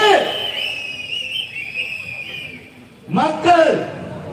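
Whistles are blown at a protest rally in Dharmapuri: a long, wavering, shrill whistle blast is followed by a pause, then a second burst of sharp, overlapping whistle tones, all loud and close.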